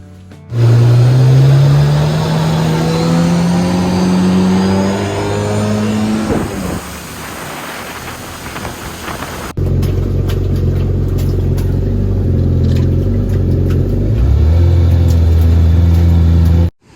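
Jet jon boat fitted with a UHMW bottom runs on the water, its engine droning loudly and steadily, with rising pitch as it speeds up, then a second stretch of a lower, rougher engine roar.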